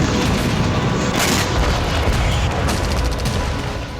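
A weapons depot blows up in war footage, a loud, dense rumbling boom with crackling secondary blasts that rolls on without a break.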